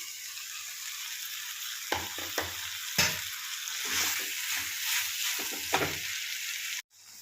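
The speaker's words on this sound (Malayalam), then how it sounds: "ഇതിലേക്ക് അരിഞ്ഞു വെച്ചേക്കുന്ന നാരങ്ങ ഇട്ട് കൊടുക്കാം." Chopped lemon drops into a pan of hot salt for lemon pickle and sizzles, a soft frying hiss broken by several sharp stirring clatters close up, then a sudden cut.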